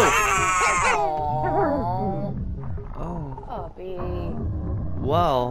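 A puppy in the video game Bulb Boy howls and whimpers in a run of rising, wavering cries, close and fairly loud, with short breaks between calls and a final sharp yelp.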